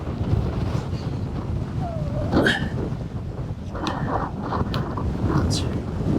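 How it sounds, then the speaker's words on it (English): Wind buffets a microphone in loud, rumbling gusts, with faint voices and a few higher sounds in the background. "Oh, it's so windy."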